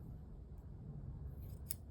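Scissors making a quick, faint snip through paper after a low background hum, a single brief cut near the end.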